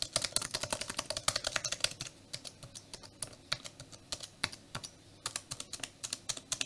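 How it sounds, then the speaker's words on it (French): Typing on a 2009 polycarbonate MacBook scissor-switch keyboard: rapid, close, crisp key clicks in irregular bursts with brief pauses, alone without talk. "c'est ça, les claviers, les fameux claviers en ciseaux"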